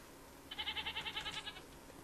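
A Minecraft goat lets out a single wavering bleat, a quick trembling run of pulses lasting about a second, heard alone and fairly close against quiet background noise.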